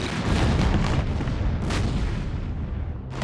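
Dense, continuous rumble of distant World War I artillery and gunfire, booms blending into a heavy roar with occasional sharper cracks; no voices.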